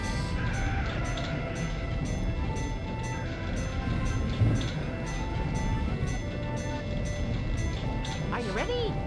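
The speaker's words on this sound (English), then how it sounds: "Chat, what if the train never ends?" A game train in Duck Dodgers rolls on and on, a steady rumbling clatter with regular rhythmic clicks, and a player's voice talking over it.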